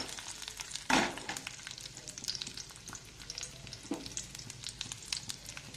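Garlic fries in hot oil with a continuous close sizzle and scattered crackles. Two louder clatters from stirring stand out, and no one speaks.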